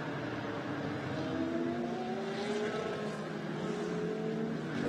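A GT4 race car passes the timing line at Sepang during a Blancpain GT Series Asia race, its engine a loud sustained drone with pitch climbing through the gears as it goes by.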